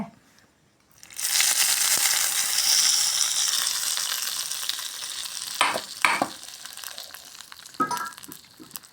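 Mustard seeds and chillies sizzle and crackle in hot oil on a stove for a Kannada raw-banana gojju, a loud steady fry with a few sharper pops near the end, no talk.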